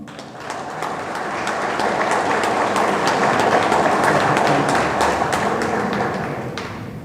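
Enthusiastic applause from a large audience at a music institute graduation ceremony, swelling in and holding steady for several seconds before easing off, with scattered distinct claps.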